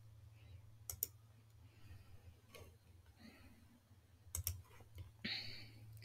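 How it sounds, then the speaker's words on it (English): Computer mouse clicks on a web form's Next button, several faint sharp ticks spaced irregularly over a steady low electrical hum, with no talking. "then we will click on next"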